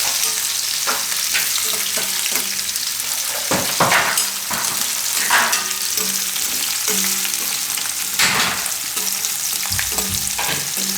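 Turmeric roasts in hot oil in a pan for a Gujarati red chilli and turmeric shaak, giving a steady, close sizzle broken by several louder scraping bursts from stirring.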